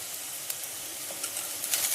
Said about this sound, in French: je vais remuer et laisser cuire environ 2 à 3 minutes jusqu'à ce que les grains de riz deviennent translucides